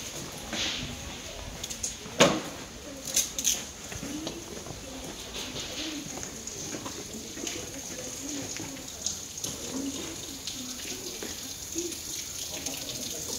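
Water runs from a blue-painted public tap in the old medina of Chefchaouen, Morocco, a soft continuous splash with pigeons cooing and faint street sounds around it.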